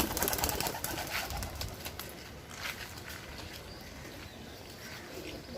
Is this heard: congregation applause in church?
no